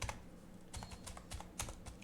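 A computer keyboard is typed on quietly and up close, with short bursts of key clicks at an uneven rhythm while an AI prompt is entered.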